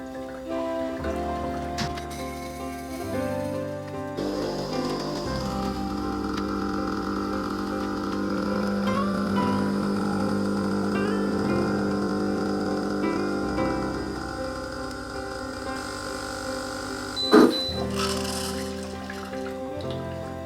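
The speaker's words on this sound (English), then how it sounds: "So obviously now I'm going to be putting large because it's filter coffee, and let's enjoy some freshly brewed filter coffee." Sumo coffee maker brewing a large filter coffee, giving off a steady mechanical hum and gurgling drip sound for about twenty seconds, with a brief louder clunk near the end and no speech.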